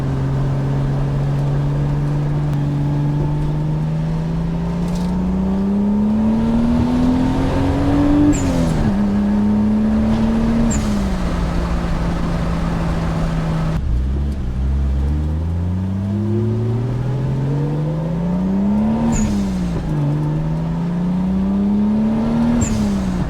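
A turbocharged Toyota Supra with a 7M engine revs and accelerates loudly and continuously, its engine note rising and falling through several pulls, with brief crackling backfire pops near the peaks and no talk over it.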